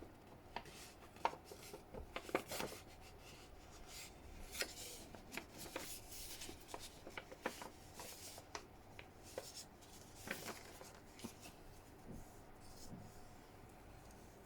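Paper folded by hand for a junk journal, soft close crinkles and sharp creasing ticks in irregular bursts, faint and intimate, with no talking.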